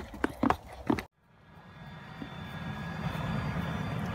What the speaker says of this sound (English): Let's fly the drone. We're gonna test this baby out.